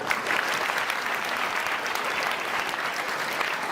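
An audience at the 2024 ceremony for Karmaveer Bhaurao Patil's 137th birth anniversary claps loudly and steadily, a continuous wash of applause throughout.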